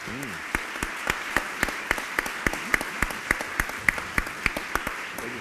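Audience at a master lecture on the history of archaeology in Mexico applauding, a steady run of distinct claps roughly every quarter second, moderately close, with a faint voice murmuring beneath.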